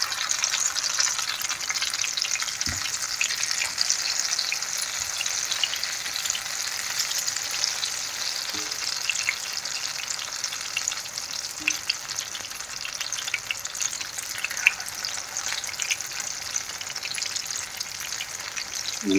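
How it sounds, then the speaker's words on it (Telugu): Zucchini pieces deep frying in oil give a steady, dense sizzle and bubbling that runs unbroken throughout, close and moderately loud, with a few faint knocks as the pieces are turned. "డీప్ ఫ్రై చేసుకోవాలి."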